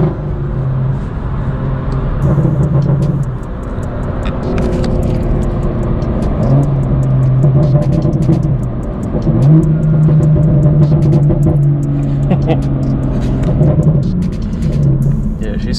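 A BMW M2 engine with a Valvetronic exhaust revs and rumbles steadily, its pitch rising and falling in several long surges, loud and close throughout.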